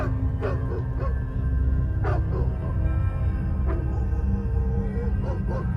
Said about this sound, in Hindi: बाहर से कुत्ते की भौंकने की आवाज आ रही है